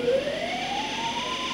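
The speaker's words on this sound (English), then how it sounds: "Hundreds of lights started flashing, accompanied by piercing horns and sirens." Piercing alarm siren in a nuclear plant control room at Three Mile Island during the meltdown, a loud continuous rising tone sweeping steadily upward, with no speech.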